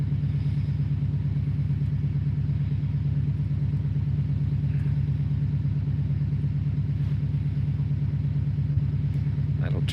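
A car engine runs steadily at 2% throttle during damper testing, a loud, even low rumble with a rapid regular pulse that holds unchanged throughout.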